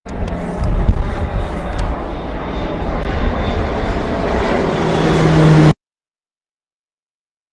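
An airplane sound effect plays as a broad, steady engine roar that builds louder over several seconds and then cuts off abruptly into silence.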